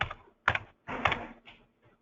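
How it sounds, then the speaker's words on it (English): Keys on a computer keyboard are struck in short, close clusters of clicks with brief pauses between, typing a specific number into a field, and nothing else is heard. "we can type in a specific check number"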